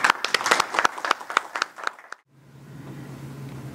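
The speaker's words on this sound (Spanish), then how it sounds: "darle ese aplauso que merece de todos nosotros" Audience applause for President Bolaños of Nicaragua at an indoor gathering, a dense burst of clapping that stops abruptly after about two seconds, leaving a low hum.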